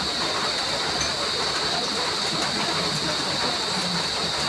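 Heavy rain keeps falling at Candelaria in an unbroken broadband hiss and rush, loud and constant from start to finish, with no voices.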